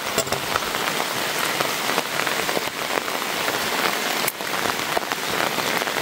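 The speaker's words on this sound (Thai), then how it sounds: "บรรยากาศเนี่ยฝนตกพี่น้อง" Rain falls steadily in the countryside, a dense continuous patter hitting surfaces, loud and close, with no voices over it.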